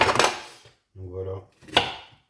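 An onion is cut with a knife, two or three sharp close blade strikes on a board separated by pauses, with a short low vocal sound between them.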